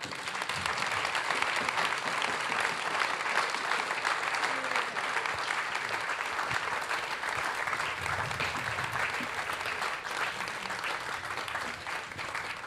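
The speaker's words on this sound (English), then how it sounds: "So please give her a warm round of applause to Stacey Sher." A large audience at an on-stage conversation event applauds steadily, dense continuous clapping that stays loud and even throughout with no voices over it.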